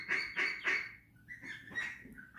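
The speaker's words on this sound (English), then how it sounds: "letting the little duck kind of free range around the shed" A small injured duck wandering free around a shed gives several soft, quiet quacks and calls, about five or six short notes at an uneven pace, close by with no talking.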